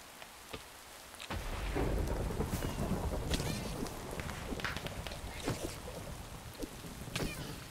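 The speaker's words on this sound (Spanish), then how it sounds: "Cayó un rayo justo aquí" A thunderclap and lightning strike during a rainstorm in the video game Minecraft. A sudden loud, deep rumble breaks in after a quieter start and rolls on over steady rain.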